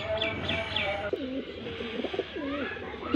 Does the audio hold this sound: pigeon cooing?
yes